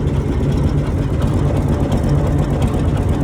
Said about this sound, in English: I have just detected we have a slight exhaust leak from this flexi section